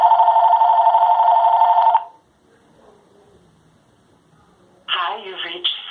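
A landline telephone routed through a Phone Lynx Bluetooth cellular adapter rings, with a steady electronic tone for about two seconds. A pause of near silence follows, then an answering machine greeting is spoken.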